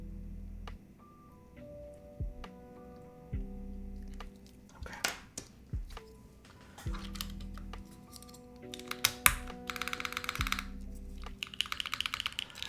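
Keystrokes on a custom mechanical keyboard fitted with Nixie keycaps, lubed lightly with dielectric grease, come as scattered clicks and short bursts, with faster typing near the end over a steady background tone.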